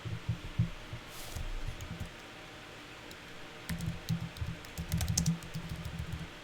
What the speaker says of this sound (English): you can't see it, but I'm typing in